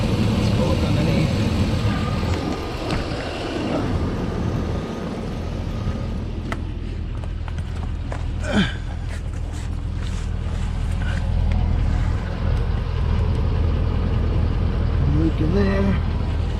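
A GMC Sierra pickup engine idles right after a fuel line and purge line replacement, a constant low rumble heard up close, with someone speaking over it.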